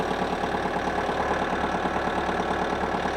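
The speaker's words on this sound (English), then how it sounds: "you start your machine up and back straight out and away from your loader." A tractor engine idles steadily with a low, even rumble and a faint rhythmic knock. It runs alone and unbroken, close by, with no voices.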